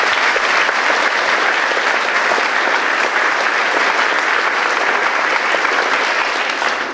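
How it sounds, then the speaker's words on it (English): Loud, sustained applause from a school concert audience for a pipe band, thick continuous clapping from many hands at an even level throughout, easing off only at the very end. "Another round of applause,"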